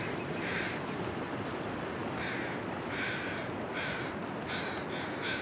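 Crows caw repeatedly in The Long Dark, set in the Far Territory, with several harsh calls spread over a steady windy background hiss, moderately distant and without speech.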